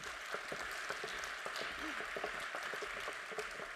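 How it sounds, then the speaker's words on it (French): Audience applause at a university introduction event in Aix-Marseille, a steady wash of clapping from a crowd, fairly quiet and distant, continuing evenly throughout. "On peut les applaudir encore une fois."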